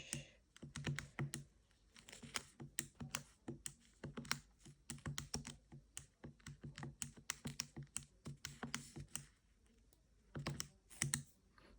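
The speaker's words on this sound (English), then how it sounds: "And then I'm going to type in my data" Graphing calculator keys are tapped in quick, irregular bursts of small plastic clicks as data is entered, close and fairly quiet with no talking.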